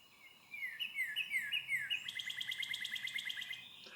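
Birds sing along a census route through fields and the formal grounds of a mansion, clear repeated chirping phrases carrying steadily and close over a quiet outdoor background, with no one speaking.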